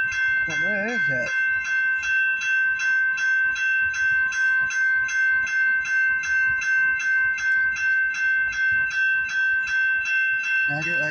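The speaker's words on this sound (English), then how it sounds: "I hear a train." A CN freight train in Michigan rolls past continuously with steady rhythmic rail clatter, its horn sounding briefly near the start and again at the end, close and loud, with faint voices.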